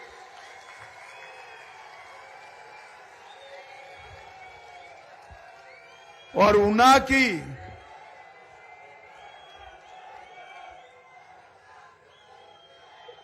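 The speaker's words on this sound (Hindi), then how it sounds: "भाई सतपाल जी के लिए जोर से एक बार ताली बजाओ सब लोग।" A rally crowd at a BJP gathering in Una, Himachal Pradesh, breaks into a short, loud burst of applause and cheering with whoops, rising suddenly between stretches of amplified speech and fading after a couple of seconds.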